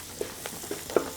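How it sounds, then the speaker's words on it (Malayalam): A spoon stirring homemade garam masala into a Kerala-style beef pepper roast masala in a pan, giving a few soft, brief scrapes over a faint sizzle. "1 ടീസ്പൂൺ ഗരം മസാല ഇട്ട് കൊടുക്കുക. എന്നിട്ട് നല്ലോണം ഒന്ന് നമുക്ക് ഇളക്കണം."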